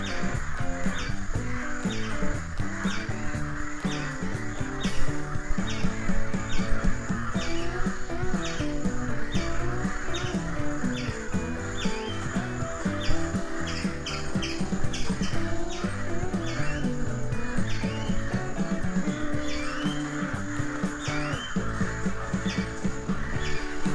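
Crows caw over and over in loose, overlapping calls, a flock gathered against the evening sky, with a steady bed of chatter and other bird chirps underneath throughout.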